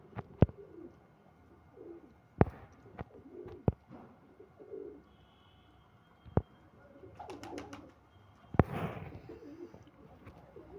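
A Punjabi pigeon coos softly in repeated low phrases, with sharp clicks and knocks scattered between and a brief rustle of wings or handling near the end.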